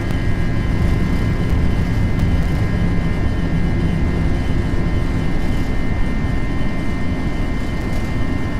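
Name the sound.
Airbus A320 jet taking off on a stormy night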